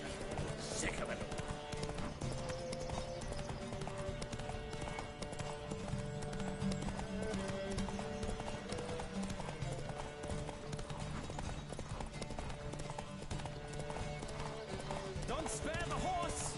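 Hooves drum in a fast, continuous clip-clop as a horse gallops in a Witcher 3 horse race, layered under game music and a rider's talk, with a brief whinny along the way.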